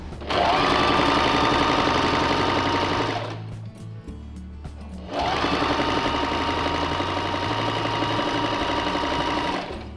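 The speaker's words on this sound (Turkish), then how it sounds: "1 milimden dikiyorum." A domestic sewing machine stitches a trouser pocket seam in two long, loud, steady runs of rapid needle strokes, separated by a short pause with faint handling noises.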